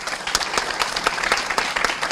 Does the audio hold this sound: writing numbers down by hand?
no